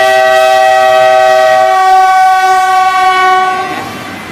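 A loud, sustained train horn blares close by, its chord shifting partway through before fading as the train passes.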